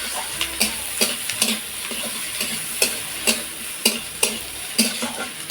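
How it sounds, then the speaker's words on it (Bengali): Chopped onion and green chili stirred in hot oil: a steady sizzle punctuated by repeated sharp scraping clicks of a spatula against the pan, close and fairly loud, no talk. "পেঁয়াজটা একটু তেলের উপরে আমি এইভাবে নাড়াচাড়া করে নেব।"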